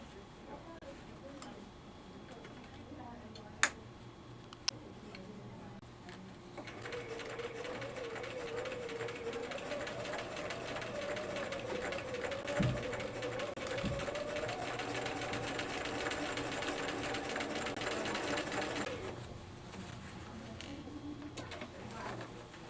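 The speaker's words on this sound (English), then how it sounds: "And now I'm ready to sew again." A domestic sewing machine stitches the collar onto a dress neckline, starting after quiet handling clicks and running as a steady, moderately loud mechanical whir for about twelve seconds before stopping.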